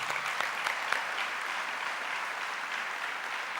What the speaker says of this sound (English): we welcome him amidst service with a round of applause